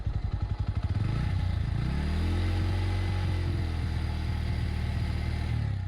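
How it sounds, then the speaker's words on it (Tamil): A 2025 Bajaj NS160 motorcycle engine revs up from idle thumps to a sustained, loud high-rev exhaust drone, close by and steady. "அப்படியே வந்து எக்ஸாஸ்ட் நோட் ஒரு ஹை ரேவும் பார்த்துருவோம்."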